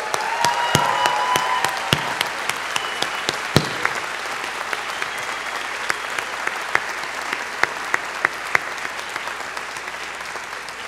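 An audience at a university commencement ceremony applauds the speaker with sustained, steady clapping and a few sharper claps standing out near the microphone, without any speech over it.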